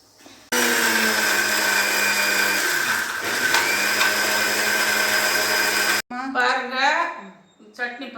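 Mixer grinder grinding chutney ingredients with jaggery: a loud, steady motor whine with a high grinding roar runs for several seconds, then stops abruptly, and someone talks afterward.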